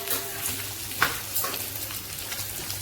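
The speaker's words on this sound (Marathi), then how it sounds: "मच्छी परतायची आहे" Pieces of fish sizzling and being stirred in hot oil in a pan, a steady crackling fry with a couple of sharper scraping stirs, close and fairly quiet.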